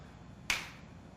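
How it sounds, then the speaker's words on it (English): A single sharp finger snap rings out alone in a quiet setting, a crisp click followed by a brief fading tail, with no talking around it. "And now when I snap my fingers"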